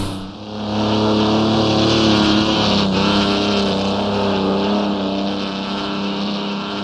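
Mercedes transporter engine droning steadily at high revs on the Nordschleife in the video game Assetto Corsa, loud and continuous with a slight pitch shift midway and no voices.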